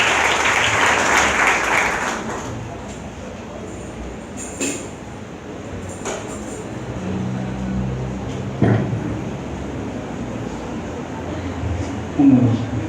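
Church congregation applauding to welcome a preacher, a broad crowd clapping that is strongest at the start and then fades into a low murmur with scattered claps and room noise.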